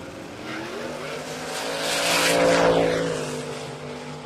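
A Toyota Supra makes a drag run at Warwick Dragway, its engine rising to a loud, high, climbing roar with a brief squeal of spinning tyres, then passing and fading slightly.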